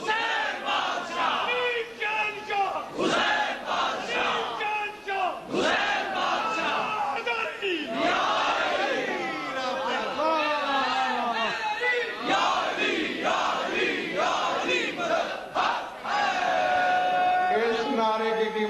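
An audience at a religious sermon by Allama Ghazanfar Abbas Tonsvi chants a slogan in loud unison, with repeated shouted calls and responses from a large crowd filling the whole stretch.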